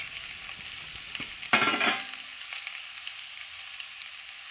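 Bottle gourd and bori stirred in hot oil in a pan, a steady soft sizzle with one loud burst of spattering frying as the pan is stirred, then settling back to a quiet simmering hiss.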